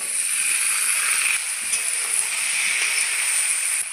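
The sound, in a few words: potatoes and peas sizzling as they go into the pan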